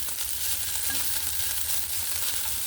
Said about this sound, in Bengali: শুটকি মাছ ভাজার 10 মিনিট হয়ে গেছে।